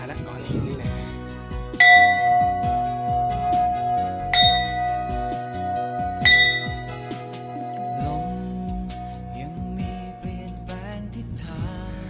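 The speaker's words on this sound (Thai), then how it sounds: "มีระฆังตีซะหน่อย ไม้ก็ไม่มีตี เดี๋ยวหาไม้ตีก่อน" A temple bell struck with a stick rings out three times at a slow, uneven pace, each clear metallic ding fading into a long sustained tone, close by, with a faint voice and ambient noise between strikes.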